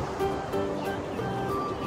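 Ocean surf rolls onto Kuta Beach in a continuous, fairly loud wash of waves with no voices.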